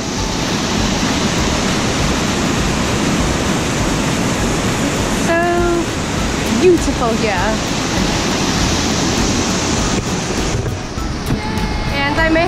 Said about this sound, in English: We made it! Waterfall!